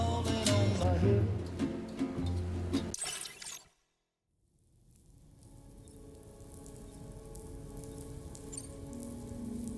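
Rain falling in Death Stranding 2, a soft patter of drops on surfaces heard under music at first, then briefly cutting out before the rain hiss slowly returns and builds.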